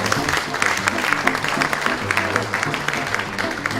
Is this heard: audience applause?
yes